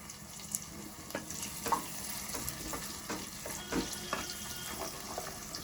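Onions and green chillies frying in a pan for mutton paya soup, a steady crackling sizzle with scattered louder pops and clinks of stirring, close and moderately loud with no talking.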